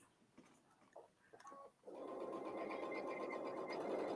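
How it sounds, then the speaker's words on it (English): A sewing machine whirs steadily after a few quieter clicks and bumps, running continuously at close range with a droning hum while stitching a quilted case. "Will you take us back to the sewing machine with you?"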